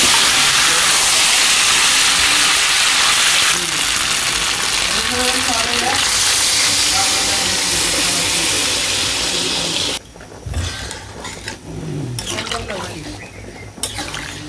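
Village-style chicken curry simmering in a pan just after water is poured in, a steady loud bubbling hiss that fills the clip and then drops away near the end.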